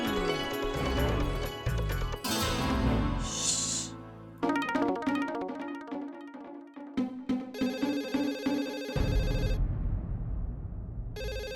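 Telephone ringing at a garage, with repeated electronic ring bursts over a busy background of music-like tones, loud and close, with no talk.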